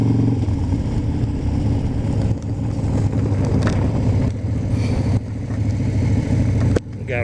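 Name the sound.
2012 Harley-Davidson Superglide Custom motorcycle riding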